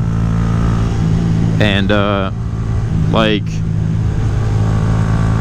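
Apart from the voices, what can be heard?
Honda Grom motorcycle engine riding through gorge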